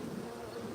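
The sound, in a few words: honey bees buzzing at hive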